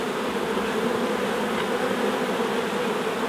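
Honeybees buzz in a dense, continuous drone around a hive entrance, a steady close swarm with no pauses.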